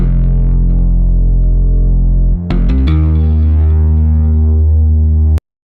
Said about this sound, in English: So there's this tiny little bit of a bass sample here.